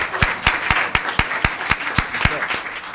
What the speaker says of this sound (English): How about a big round of applause for Seth?